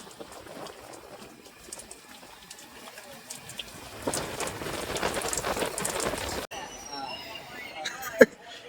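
Steady rain patters across surfaces, swelling louder midway, with faint bird calls and a sharp knock near the end.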